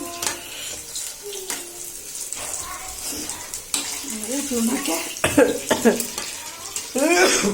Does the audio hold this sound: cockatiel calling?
no